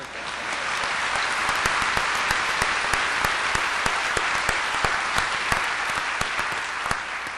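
Graduation ceremony audience at a Dakota State University spring commencement applauds the student marshals and program staff, a steady, moderately distant crowd clap with a few sharper, closer hand claps punctuating it rhythmically.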